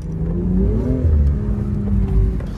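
A car engine revs as the driver presses the accelerator, a close, loud mid-pitched rise in revs that climbs, dips briefly and rises again over a couple of seconds with no talk.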